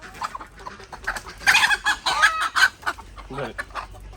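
Native country hens cluck in a run of short, close calls, rising into a busier cluster midway, with occasional crowing-like notes and faint farmyard background.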